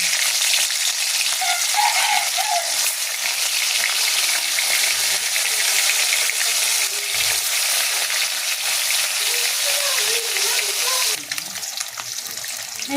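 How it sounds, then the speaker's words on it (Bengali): Shol fish frying in hot mustard oil in a pan, a steady loud sizzle and crackle running throughout with no voices. "কড়াতে সর্ষের তেল দিয়ে দিলাম, তেল গরম হয়ে গেছে। এরপর আমি মাছগুলোকে দিয়ে দিলাম।"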